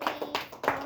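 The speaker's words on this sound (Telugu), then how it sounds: "నీకు 6 క్లాప్స్ కొట్టండి అందరు" A small group of people clapping in time for a birthday, sharp, fairly close claps in a quick counted rhythm, about six distinct beats with short gaps between them.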